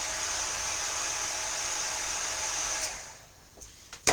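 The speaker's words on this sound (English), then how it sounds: "So let me emboss that or heat that up just a second," A heat tool melting embossing powder on a Valentine card blows a steady, close, loud hiss of rushing air for nearly three seconds, then cuts off, leaving faint clicks and handling noise.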